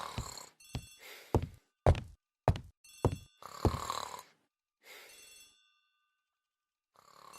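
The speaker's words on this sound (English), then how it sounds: "The telephone in the hall is ringing." A telephone bell rings in a hall in The ABC Murders, an Agatha Christie video game. Several sharp ringing bursts come in an uneven rhythm, close and clear, with short silences between them.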